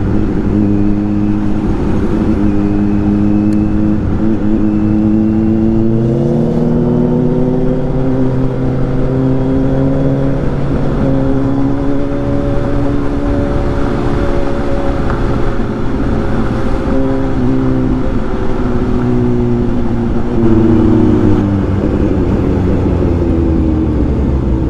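A Ford Mustang engine hums and rises in pitch as it accelerates, a steady close drone that climbs and shifts gears over a long stretch.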